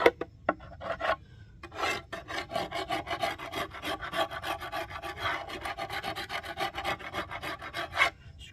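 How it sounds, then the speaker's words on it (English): Steady, rhythmic rasping strokes of a scraper cleaning the frame rests, corners and back of wooden beekeeping equipment, fairly close and continuous, with no talking. "Scrape it all down."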